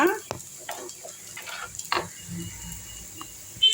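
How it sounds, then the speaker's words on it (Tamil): Onion, curry leaves and dried chillies sautéing in oil in a clay pot for lentil kadaiyal, soft sizzling under sparse scraping stirs and occasional taps of a spoon against the pot, fairly quiet and close. "இப்போ இந்த வெங்காயம், கருவேப்பிலை, காஞ்ச மிளகாய் மூணுத்தையும் போட்டு நல்லா வதக்கிப்போம்"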